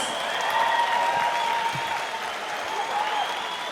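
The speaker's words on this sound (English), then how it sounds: "a round of applause for these two fighters going 5 hard rounds" Applause fills the arena after a five-round 79kg kickboxing fight between Diego Benneduzzi and Blood Diamond, a steady wash of clapping and crowd noise at even loudness, with a brief announcer-style voice buried beneath.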